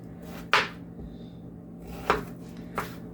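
A kitchen knife cuts squash into half-moon chunks in three crisp, separate chops. They are close and fairly loud, spaced unevenly, with quiet between them and no voices.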